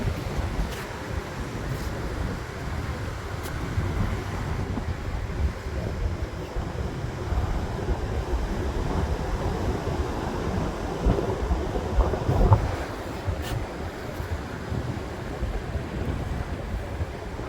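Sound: sea waves on the shore near a temple

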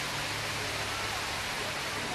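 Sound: waterfall on the San Antonio Riverwalk

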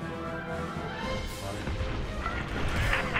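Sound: laser cannon firing in Star Wars Squadrons video game

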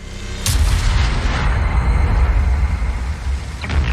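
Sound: British heavy tank cannon shot in World of Tanks video game

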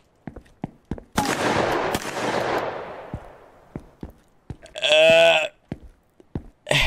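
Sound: gunshots in Streamer Life Simulator video game

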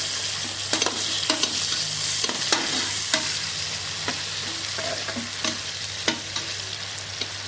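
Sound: onions and green chillies frying in pan

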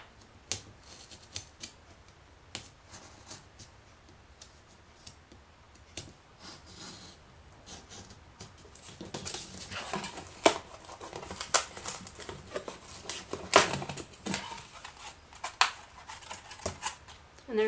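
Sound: scissors cutting through layers of fabric

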